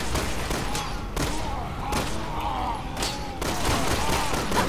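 An enemy gunman in the video game Resident Evil 6 fires repeated loud gunshots in rapid bursts, with sharp cracks and thumps layered over in-game noise.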